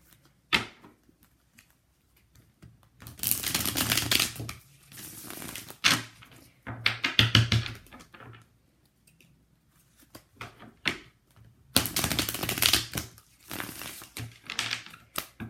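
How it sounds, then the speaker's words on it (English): Tarot cards being shuffled close up, several rounds of crisp riffling and flapping bursts separated by short pauses, with no voices. "let's shuffle a couple more times here."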